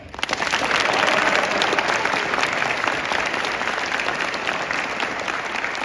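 Sustained audience applause at a school fall athlete signing day, dense steady clapping from a large crowd filling the whole stretch at a strong, even level.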